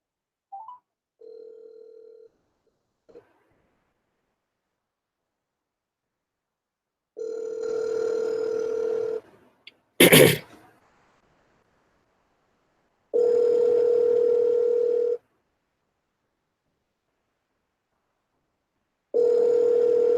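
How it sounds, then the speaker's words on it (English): A telephone ringback tone plays while a call waits to be answered, sounding as steady repeating bursts about two seconds long separated by silent gaps, with a brief sharp thump between rings. "Come on, Si, pick up that phone."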